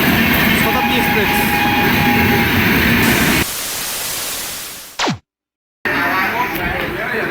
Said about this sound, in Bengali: শতাব্দী এক্সপ্রেস।